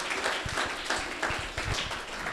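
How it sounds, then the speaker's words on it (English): A conference audience gives a speaker a round of applause after a memorial lecture, soft and fairly sparse clapping that sounds distant and thin, continuing steadily. "Can we give another round of applause for David for his excellent talk?"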